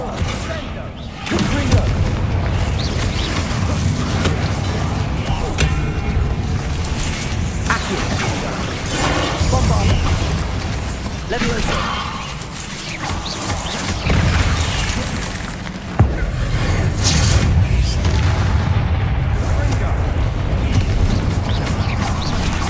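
In the video game Hogwarts Legacy, a Bombarda explosion spell goes off in loud booming blasts within a dense, continuous wash of game rumble and crashes, with a voice speaking over parts of it.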